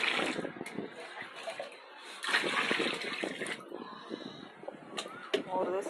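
Water runs and splashes steadily while something is rinsed and washed by hand indoors, with a voice talking over the flow.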